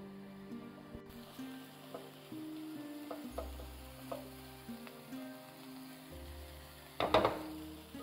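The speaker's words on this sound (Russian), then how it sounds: "Продолжаем обжаривать." Garlic and mushrooms fry in a pan for a seafood julienne, a low steady sizzle with soft stirring scrapes and a sharper clatter near the end, no voices.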